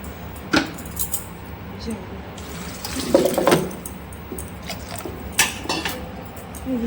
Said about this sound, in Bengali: জলটা দিয়েছি।